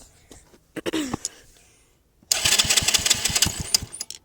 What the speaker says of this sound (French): je suis obligée de le démarrer au tournevis